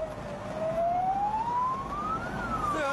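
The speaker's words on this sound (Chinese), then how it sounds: "消防官兵迅速出动消防车辆赶往事发工厂。" Fire engines race toward a burning factory shed in Wangjiang County, Anhui, one loud wailing siren sweeping slowly upward in pitch then dropping, over steady traffic rumble.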